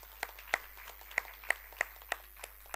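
Sparse, scattered hand claps from a small audience welcoming a speaker on stage at a student budget forum, about eight separate claps spaced irregularly over a low room hiss.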